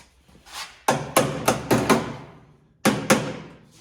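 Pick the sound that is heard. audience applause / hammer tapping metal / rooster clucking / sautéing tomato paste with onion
hammer tapping metal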